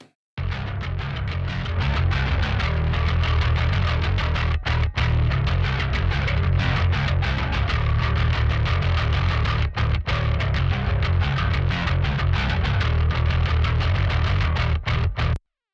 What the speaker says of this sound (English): there's a little bit of clean sound kind of blended in there, the DI sound, and then this kind of fuzzy, distorted, clanky sound